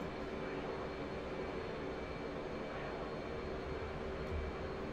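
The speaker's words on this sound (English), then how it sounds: "We're in a fighter jet after all." Steady, continuous roar of an F/A-18C Hornet fighter jet's engines in flight within the DCS combat flight simulator game, a dense broadband drone holding at even loudness with no talk over it.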